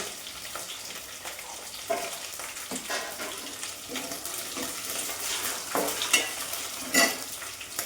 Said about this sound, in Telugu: ఉల్లిపాయలు వేస్తున్నాం చూడండి.